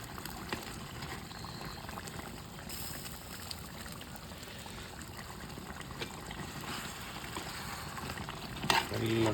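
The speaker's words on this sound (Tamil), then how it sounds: "நல்லா கொதிக்குது. ஆவி பறக்க கொதிக்குது." A pot of chicken curry bubbles and simmers continuously with a dense, crackling boil, steady throughout and fairly faint, with a small clatter near the end.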